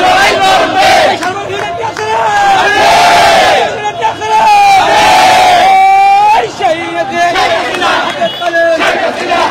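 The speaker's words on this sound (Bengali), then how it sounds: "স্লোগান দিচ্ছেন।" A dense crowd of Awami League supporters chants slogans in unison during a rally procession for the party's anniversary in Dhaka, loud and continuous with rising and falling waves of voices.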